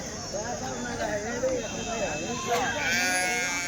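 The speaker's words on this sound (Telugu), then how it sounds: "ఒక కట్ట పిల్ల గొర్రె అయితే ఉన్నాయండి." Sheep and lambs bleat repeatedly at a busy Bakrid ram and sheep market in Kadiri, their wavering cries overlapping close by over constant crowd chatter and voices.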